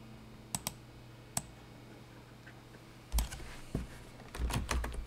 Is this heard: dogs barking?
no